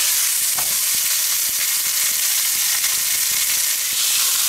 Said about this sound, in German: Und dann braten wir das Fleisch erst einmal ordentlich an.